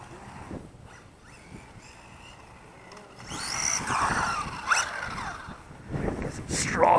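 A WLtoys A959-B 4WD RC buggy driving at half throttle outdoors on straw-strewn ground, its electric motor whining and rising in short passes, louder in the second half, while someone talks over it.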